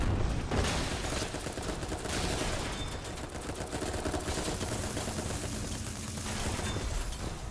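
Rapid SMG fire in a mecha video game, a continuous rattling stream of shots at moderate loudness with no voices.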